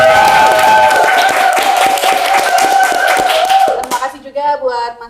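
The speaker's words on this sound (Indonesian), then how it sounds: "Boleh tepuk tangan sekali lagi dong." An audience at a community event claps and applauds in a dense, steady burst that tails off near the end, with a voice speaking under the applause.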